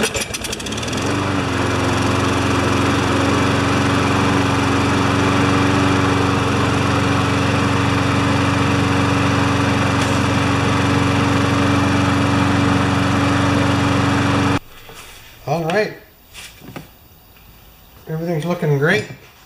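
A Craftsman self-propelled lawn mower engine starts and runs with a loud, steady drone for about fourteen seconds, then cuts off, followed by a person speaking.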